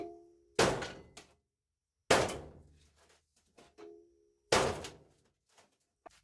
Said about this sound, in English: I'm using like a slide hammer. Bang it a little bit.